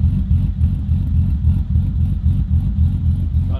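An LS V8 engine in a car build idles and revs in quick, rough pulses, loud and close, for a few seconds.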